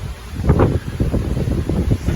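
Strong gusting wind from Hurricane Ian in Central Florida roars and buffets the microphone in a steady, rumbling rush with surging bursts, no voices.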